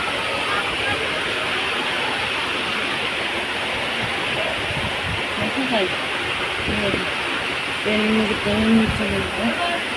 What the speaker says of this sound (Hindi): आज बहुत जम के आई है बारिश